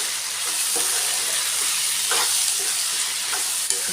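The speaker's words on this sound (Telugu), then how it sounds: "ఇప్పుడు మూత తీసి కలుపుకున్నాము." Ivy gourd and tomato curry frying in a pan, with a steady broadband sizzle and a few soft scraping stirs of a spoon against the pan, close and continuous, no talking.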